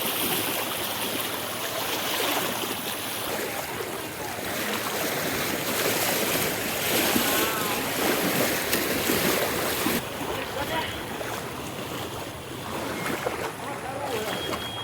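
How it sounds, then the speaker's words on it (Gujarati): Knee-deep floodwater on a city road after heavy rain, a steady rushing, splashing wash of moving water that fills the whole stretch with continuous broadband noise, with faint voices underneath. "વરસાદના કારણે ઠેર ઠેર પાણી ભરાયા ગોઠણે ગોઠણે પાણી"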